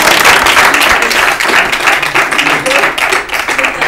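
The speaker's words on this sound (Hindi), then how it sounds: "तालियां" A studio audience at an Urdu quiz show applauds steadily, dense clapping that fills the space for a few seconds without pause.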